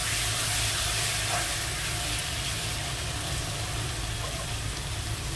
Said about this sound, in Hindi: आप फ्राई कर लेंगे 1 मिनट।